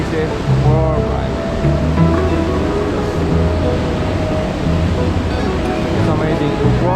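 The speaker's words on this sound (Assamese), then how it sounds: "কি ধুনীয়া মন্দাকিনী নদী এনেকৈ বৈ আহিছে ওপৰৰ পৰাই" The Mandakini river rushes down from the mountains on the Kedarnath trek route, a dense, constant roar of flowing water heard close and loud.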